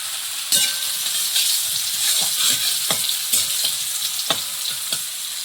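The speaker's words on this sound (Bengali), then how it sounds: "শুকনো লঙ্কা তেলে, এবার 5 ফোড়ন তেলে দিয়ে দেবো" Dried chilies and panch phoron spices crackle loudly in a small amount of hot oil in a wok, with a steady sizzle punctuated by repeated sharp spatula scrapes.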